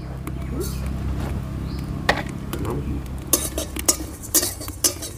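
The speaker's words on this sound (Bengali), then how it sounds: "প্রথমে আমি শুকনো খোলা রাঁধুনি আর মৌরি মশলাটা ভেজে নেব।" Dry radhuni and fennel seeds are stir-roasted in a hot wok over a clay stove, with scraping spoon strokes and sharp metal clinks against the pan, a low background hum throughout and louder clanks near the end.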